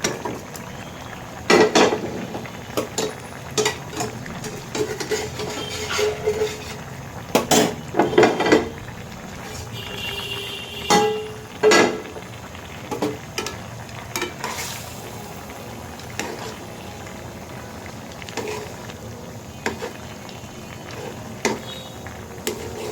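Rohu fish pieces going into a pan with cooked potatoes and okra, giving scattered clatters and scrapes of utensils against the pan over a faint, steady frying hiss, with no voices.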